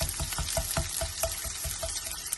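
Chopped tomato added to a frying pan of turai (ridge gourd), a close, busy sizzle with quick repeated scraping and clattering pulses, no one speaking.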